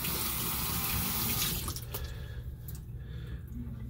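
A water tap runs into a sink as a loofah alternative is rinsed and an arm is wetted underneath, a close, steady splashing gush that shifts and thins partway through as the stream is interrupted by hands and arm.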